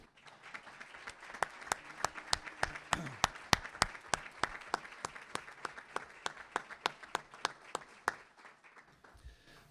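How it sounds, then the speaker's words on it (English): Elected officials standing at a property tax forum get a brief round of applause, mostly one close, loud, steady clapper rapping out a quick even beat over sparse room clapping before it stops. "if you're an elected official, can you please stand up and we'll give you a quick round of applause?"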